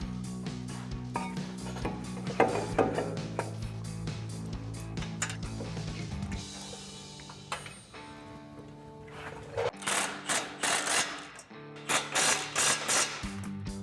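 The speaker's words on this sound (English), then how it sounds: "to tighten down these caliper bracket bolts, we're going to need a 21mm socket and an impact." An impact wrench with a 21mm socket drives caliper bracket bolts tight on a 4WD RAM 1500 during a Rough Country 3-inch lift install, giving several loud, close, stuttering bursts after a stretch of clattering shop noise.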